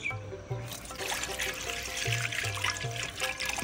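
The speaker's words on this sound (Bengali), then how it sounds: "এবার পানি দিয়ে দিব।" Water poured into a cooking pot on a lit stove for boiling lentils, a continuous close splashing trickle over a low steady tonal hum.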